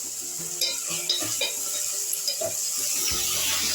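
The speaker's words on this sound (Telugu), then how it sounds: "ఇందులో కొద్దిగా సాల్ట్ పసుపు వేద్దాం. కొంచెం వేసి ఫ్రై చేస్తాం." Salt and turmeric are fried with tomato in a pan for a taro tamarind stew. A close, steady sizzle runs under irregular spoon scrapes and metallic clanks against the pan, with no talk.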